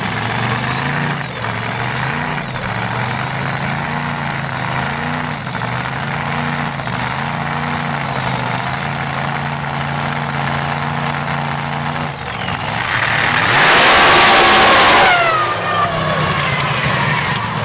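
A 521 cubic inch screw-blown Hemi drag racing engine, rated near 4,000 horsepower, idles with a steady lumpy rumble, then blips into a loud, sharp rev near the end before settling back.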